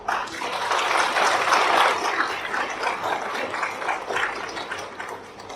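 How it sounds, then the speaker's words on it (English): An audience at a Buddhist evening talk during a meditation retreat in Penang claps in a sustained, loose patter of many hands, swelling and then gradually thinning out over several seconds. "Thank you for clapping."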